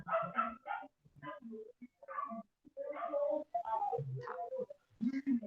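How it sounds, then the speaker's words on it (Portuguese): Several street dogs bark and yip excitedly, overlapping in irregular bursts, some whining between barks, fairly close and loud, while a loudspeaker car passes. "todos os cachorros da rua estão enlouquecidos"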